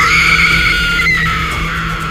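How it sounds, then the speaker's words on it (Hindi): A woman lets out a loud, sustained high-pitched scream in a horror scene, a single drawn-out shriek that wavers and fades slightly over about two seconds. "ये देखकर नैना की एक जोरदार चीख निकलती है,"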